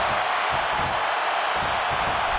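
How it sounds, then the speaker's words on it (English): A boxing video game crowd roars in a steady, dense wall of cheering that fills the whole moment without pause or letup. "Listen to this crowd."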